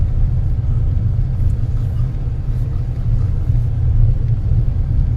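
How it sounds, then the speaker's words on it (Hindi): BYD car driving on a potholed mountain road in Nepal, a steady low road rumble and tyre noise heard from inside the cabin, even and continuous. "ये BYD है, कितना अच्छा गाड़ी है।"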